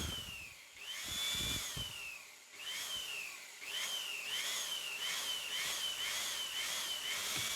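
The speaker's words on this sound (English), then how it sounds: "now I'm using my blower to high speed spin this propeller to clean up axle and hub" A blower spins a laptop cooling fan propeller at high speed, giving a loud airy rush with a whirring whine that rises and falls in repeated surges.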